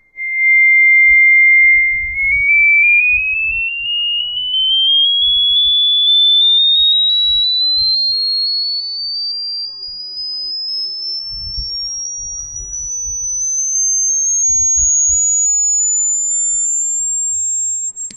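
A steady pure electronic tone made in GNU Radio holds briefly, then glides smoothly upward to a high, piercing pitch and stays there, loud and alone apart from faint low clicks.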